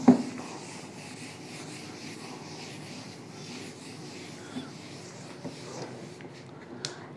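Steady dry rubbing of an eraser across a classroom board, a continuous scrubbing texture with small knocks and a few sharper taps near the end, fairly close and alone without talk.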